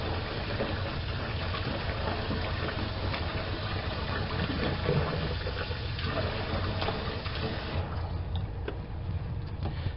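Steady running water from a tap pours continuously at close range over chicken being rinsed in a sink, with a low background hum underneath.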